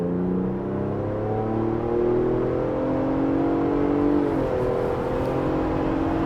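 Ford Bronco Raptor exhaust in sport mode pulling up a freeway at part throttle, a steady droning engine note rising gradually in pitch with a brief dip, close and continuous without talk.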